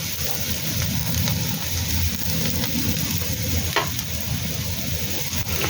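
Ginger and onion with garlic sizzling in hot oil in a pan, a steady frying hiss with scraping stirring strokes throughout, close by.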